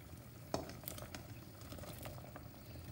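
Simmering vegetable soup with hot water being added, a soft steady bubbling and liquid rush with one sharp clink of a pot or utensil near the start, faint and close.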